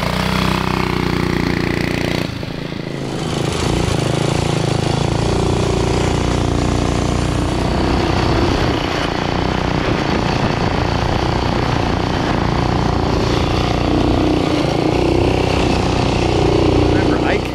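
A 1971 Rokon two-wheel-drive motorcycle runs a hot lap, its engine droning loud and steady with a brief dip early on, while people talk over it.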